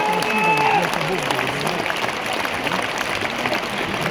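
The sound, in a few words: audience applause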